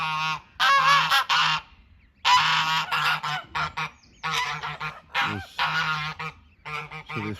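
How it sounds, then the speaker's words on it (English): Farm geese honk repeatedly near their three newly hatched goslings, loud and close in a series of harsh bursts with short gaps between them. "geese have come out, and we have got 3 goslings that have left the nest"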